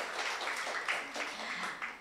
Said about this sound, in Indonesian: Tepuk tangan buat Bapak Ibu semua ya.